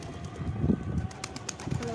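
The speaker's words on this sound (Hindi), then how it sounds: "एक कबूतर आकर इस टावर पर बैठ गया" A pigeon perched on a tower coos softly in a few low, rounded calls, with faint background noise and light clicks around it.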